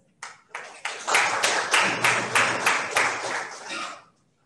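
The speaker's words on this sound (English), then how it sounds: "Let us clap and welcome Sister Manju to share with us." An audience claps to welcome a speaker at a talk, beginning with a few scattered claps, then building into a brief, close round of applause that fades out after about four seconds.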